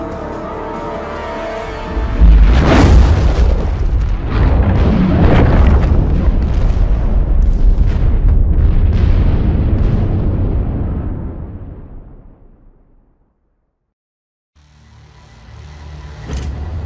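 Heavy explosions and weapon fire in The Expanse Telltale video game: a loud boom hits near the start, followed by sustained roaring blasts and crackling that fade out, a brief silence, then a softer rumble returns.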